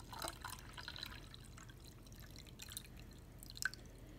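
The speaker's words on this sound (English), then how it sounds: "fill it with water" Water poured into a small Sea-Monkeys tank, faint dripping and trickling splashes scattered over a quiet background.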